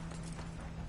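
Steady clip-clop of horse hooves at a walking pace in a PS4 video game, fairly close, with a low constant hum underneath and no talking.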